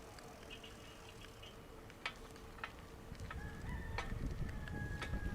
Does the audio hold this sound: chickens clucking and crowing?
yes